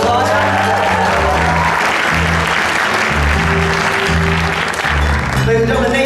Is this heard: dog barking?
no